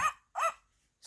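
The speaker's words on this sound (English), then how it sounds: "Barking," A dog barks twice, close and sharp, with a third bark starting at the very end and quiet gaps between.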